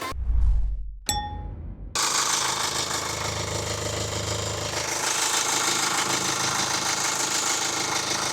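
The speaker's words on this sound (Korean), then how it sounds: "10년이 넘은 차량인데 엔진 소리도 좋지 않습니까?" A 2013 Kia Carnival R Grand GLX opens with a short, loud low rumble and a couple of bright ringing tones, then its engine settles into a steady, even idle heard up close.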